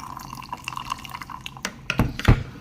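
Water poured to make coffee, a light trickle and drips building toward a couple of louder splashes near the end, close and alone with no talk.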